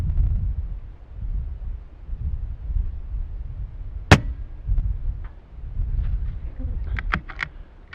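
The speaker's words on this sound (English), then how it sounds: "But I'm going to shoot the right side again," .223 Remington rifle fires once outdoors on the last day of hunting season, a sharp, loud crack near the middle, followed by faint ticks and light wind rumble around it.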